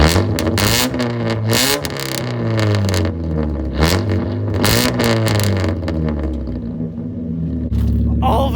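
Car with a straight-piped exhaust revving hard in a garage after warming up, a loud raspy roar rising and falling in repeated throttle blips, close and unbroken throughout.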